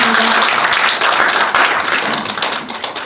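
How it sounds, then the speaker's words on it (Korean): An audience at a Korean university Buddhist club presentation event claps in thanks for a professor, with many hands in a brisk, crowded patter that thins and fades toward the end. "동국대학교 지도교수님 이경재 교수님께 감사의 박수 부탁드립니다."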